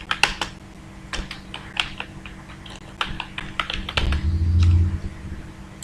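Fingers typing on a computer keyboard, a close, irregular run of light key clicks and taps, with a brief low hum underneath toward the end.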